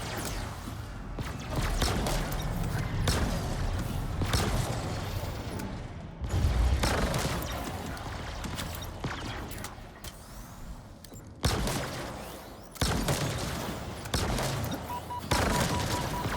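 Rapid gunfire from weapons in Halo Infinite, including shock rifle shots and incoming enemy fire, crackling in dense bursts with booming impacts that continue nearly without a break throughout.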